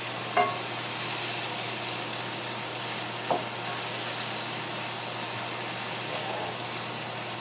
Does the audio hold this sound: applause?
no